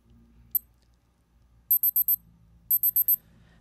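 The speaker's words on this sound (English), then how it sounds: "let you hear what the beep sounds like" A Casio G-Shock GA2100-1A1 digital watch timer beeps in two quick bursts of four high, thin tones each, after a single short beep, over faint low background hum.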